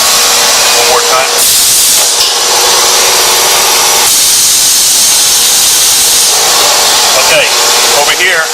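An 1100-ton press cycles its ram with strong bursts of pneumatic hissing that start and stop several times over a steady mechanical rumble, loud and close in a factory setting.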